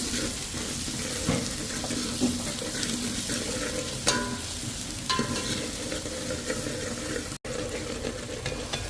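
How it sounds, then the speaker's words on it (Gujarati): Onion tossed into hot oil with ginger and garlic for Manchow soup sizzles steadily and close up, a dense continuous frying hiss with a few stirring scrapes and clacks, no talk. "આદુ અને લસણ નાખી દીધું છે અને હવે નાખી છે ડુંગળી."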